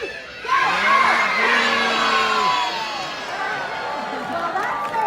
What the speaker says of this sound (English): On the count of three, we're all gonna yell as loud as we can.